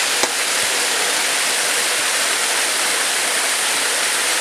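Cold water pours steadily at Eternal Flame Falls in Chestnut Ridge, a loud, continuous close-up rush of falling water with no voices.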